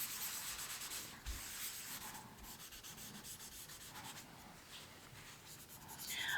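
Paper towel rubbed across 4B graphite pencil shading on drawing paper, a soft, close, continuous scratchy swishing in short back-and-forth strokes, with no talking.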